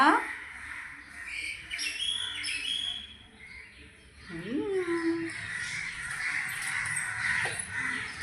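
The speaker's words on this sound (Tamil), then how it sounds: "காக்காலாம் கத்துது பாருப்பா இங்கே இல்லை மாடியில் கத்துது" Crows caw now and then against a backdrop of small birds chirping, with voices talking nearby throughout.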